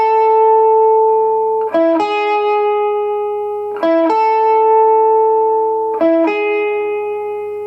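A three-note lead electric guitar riff repeats about three times, each pass holding one long sustained note before quickly stepping through two more, clean and alone with a ringing, effected tone.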